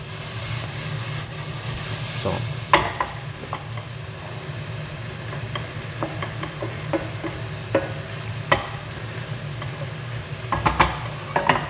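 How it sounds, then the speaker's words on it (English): Onions sauté in a pan over medium heat for mushroom risotto, giving a soft, steady sizzle with occasional spoon scrapes and taps. No one speaks. "We're trying to soften and cook the onions without getting any colour on them."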